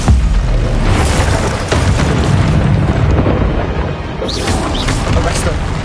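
Glacius freezing spell cast in Hogwarts Legacy amid combat: a loud, sustained rumbling blast of noise carries on for several seconds, with a brief whooshing flourish near the end.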